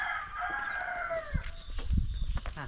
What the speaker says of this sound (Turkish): Kafeslerde horozlar.